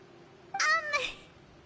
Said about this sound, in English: Oh, there's a meow meow kitty.